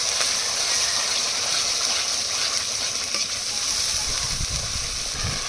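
Spices and yogurt sizzle steadily in a pan for a bhetki fish recipe, a close, continuous frying hiss with faint stirring scrapes and no speech.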